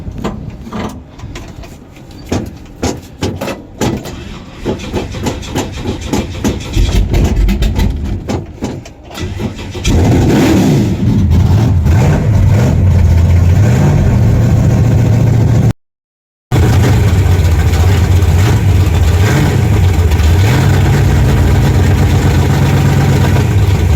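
A 1966 Pontiac car engine cranks in rapid stuttering bursts, catches, then runs loud and rough with repeated revving swells and a deep idle throb, close to the listener.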